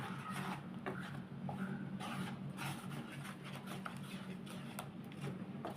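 Jaggery with dates and tamarind is stirred in a pan for chutney, giving a continuous thick rasping scrape with a dense, sticky rubbing texture and faint knocks.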